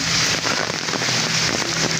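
Light rain falls steadily with a soft wind, a continuous broadband wash of drizzle and gusts that fills the scene at even loudness, with no voices.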